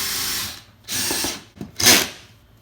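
A 3/8 inch socket on a ratchet drives a self-tapping 1/4 inch standoff bolt, giving three short bursts of close mechanical whirring and clicking separated by brief pauses.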